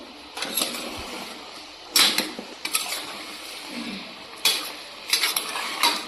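A spoon scrapes and clanks against a metal pot in a few short bursts as green brinjal and peas are stirred, with quiet gaps between.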